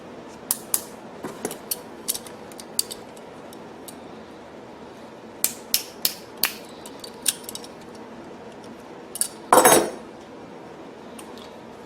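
Clicks and small metallic snaps of a hose clamp being fitted as a 1/4 inch fuel hose is pushed onto a check valve, part of a Powerhorse 3500 generator extended-run fuel kit; sparse close taps and a brief rustle near the end.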